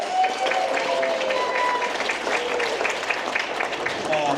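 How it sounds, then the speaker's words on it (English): A graduation ceremony audience applauds live performers Speakeasy, with dense, sustained clapping from a sizable crowd, a few scattered voices and some whistle-like tones mixed in. "Give them a round of applause."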